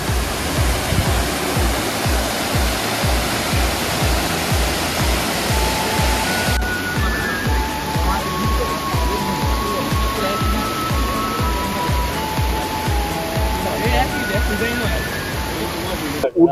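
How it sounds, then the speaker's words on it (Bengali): Woodland Waterfall near Nainital roars in a steady, loud rush of falling water close by, with voices talking faintly beneath the constant noise. "এই যে ঝর্ণাটা"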